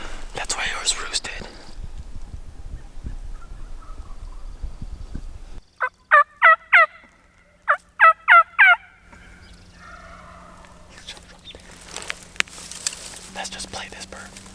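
A wild Merriam's turkey tom gobbling in two loud, rattling bursts between stretches of hushed whispering from hunters in the woods, with a faint low hum under the later talk.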